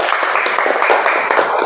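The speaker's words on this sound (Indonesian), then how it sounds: "tepuk tangan untuk kelompok 1" Brief burst of classroom clapping from a group of students applauding a classmates' group, loud and dense with a few voices mixed in.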